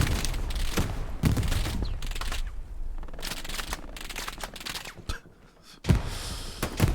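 A bazooka fires in a Hell Let Loose tournament battle, amid loud, close bursts of gunfire and blasts arriving in clustered volleys, with a brief lull before a final sharp boom.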